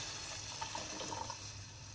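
Water poured into a thin tomato curry in a cooking pot, a soft, steady splash and trickle that stays faint throughout, with no voices.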